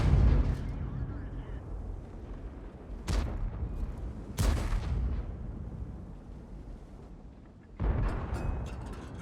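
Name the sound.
tank cannon firing in a video game (Kirovets-1)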